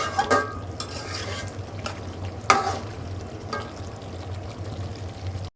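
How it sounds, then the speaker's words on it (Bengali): Goat liver bhuna with potato is stir-fried in a pan, a soft low sizzle under several sharp spoon scrapes and clinks against the pan, spaced a second or so apart. "এখন এটা মাখা মাখা করে সুন্দর করে কষিয়ে নামিয়ে ফেলবো"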